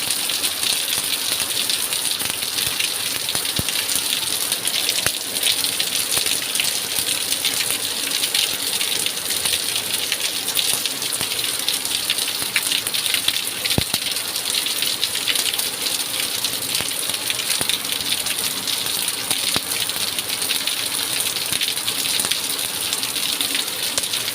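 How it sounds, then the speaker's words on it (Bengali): Steady morning rain falling, a constant broadband hiss with scattered patters and drips on surfaces, unbroken throughout and without voices. "সকালবেলা বৃষ্টি হচ্ছে"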